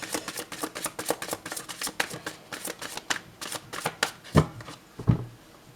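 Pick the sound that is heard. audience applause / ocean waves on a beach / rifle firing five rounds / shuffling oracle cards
shuffling oracle cards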